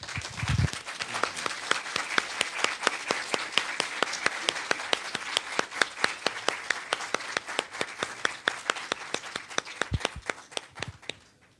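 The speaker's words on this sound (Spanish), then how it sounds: "un aplauso a la Virgen de Nativitas" A crowd at a religious celebration for the Virgin of Nativitas in Tultepec, State of Mexico, breaks into sustained applause, many hands clapping briskly and close by before the clapping thins out and fades near the end.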